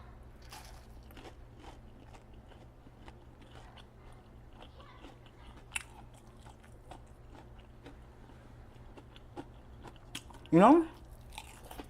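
A single loud, crisp crunch of a bite into a fried Spam fry comes near the end, after a stretch of quiet room tone with light movement and brief talk.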